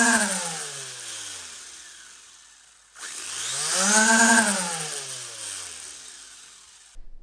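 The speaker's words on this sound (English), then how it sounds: "when you spin them at thousands of RPM with a very powerful motor" Soft rubber off-road tires on an R/C car spin up to thousands of RPM under a very powerful motor, a loud whining electric motor that sweeps up, falls, then rises sharply again to a screaming peak before winding down, heard alone.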